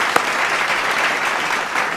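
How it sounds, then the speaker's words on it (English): Steady applause from a conference audience at a three-day conference, a dense, even wash of clapping that holds at a constant level for about two seconds, with no talk over it. "May I request all of you to give a big round of applause for yourself"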